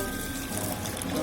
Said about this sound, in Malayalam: വെള്ളം ചേർക്കാം,